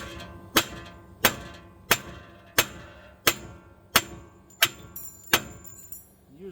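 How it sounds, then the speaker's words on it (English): Eight sharp metallic hammer blows on a metal car part ring out at a steady pace, each with a brief ringing decay, close and loud. "Take your hammer, hit it right here."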